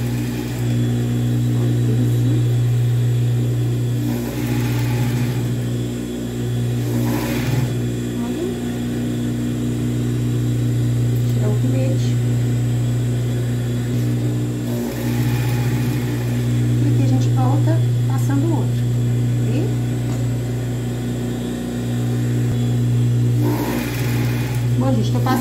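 Sewing machine stitching a seam on a child's dress with puffed sleeves, a steady, close motor hum running almost without pause while someone talks over it.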